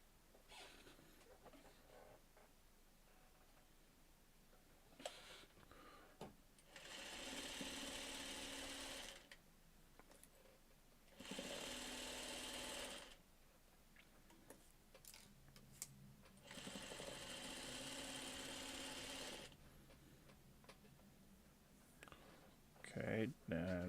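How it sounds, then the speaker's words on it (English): Sewing machine stitching two quilt blocks together, running in three steady bursts of a few seconds each, with quiet handling and light clicks between runs; fairly soft and close. "And we're going to sew the two blocks together."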